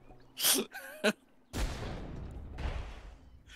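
A car blows up in the Worms WMD video game: a sudden loud boom at about 1.5 seconds, followed by a long crackling, rumbling tail. Short bursts of voice-like game sounds come just before it.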